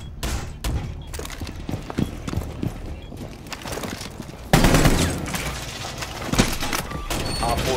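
Gunfire in Rainbow Six Siege on the Bank map, with rapid close shots and clattering bursts, a loud sustained blast partway through, and game noise throughout.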